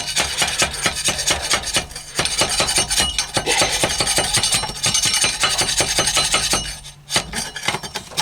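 Metal tool scraping clogged residue out of a diesel heater fouled by burning used hydraulic oil: dense, rapid rasping and clinking strokes, close and loud, with one brief pause near the end.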